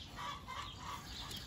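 A brief, faint burst of hen clucking sounds from a backyard flock at snack-feeding time, low and close with no voices.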